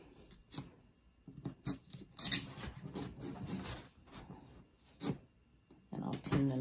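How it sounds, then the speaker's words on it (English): Intermittent squeaky creaks and scrapes of styrofoam as pins are pulled from a quilt being blocked, close by, in short bursts with quiet pauses between, mixed with faint handling noise. "Sorry about the styrofoam noise."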